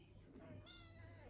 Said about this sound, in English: There's a kitty in there.